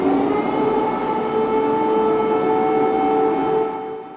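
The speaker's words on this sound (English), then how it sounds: "Air raid sirens sounding in Kyiv this morning." A steady, wailing air raid siren in Kyiv during an aerial attack holds a sustained tone throughout, loud and continuous, fading slightly at the very end.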